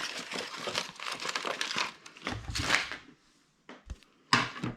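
A pompom craft punch cuts through several sheets of paper stacked together, giving a few close crunching, crinkling snaps in uneven bursts separated by short pauses.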